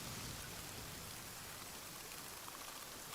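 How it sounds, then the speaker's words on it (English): Steady, dense rainfall in Genshin Impact pours down without pause, a constant hiss of drops spread evenly across the whole moment, with no voices. "the constant rain and lightning."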